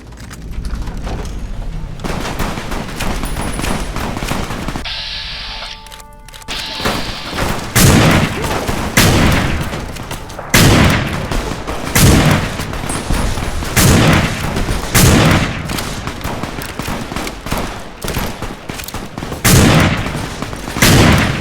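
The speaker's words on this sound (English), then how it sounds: "You hear that? Fucking gunfire." Heavy gunfire in a game, repeated loud bursts and booming shots in an irregular rhythm, with sharp blasts continuing throughout.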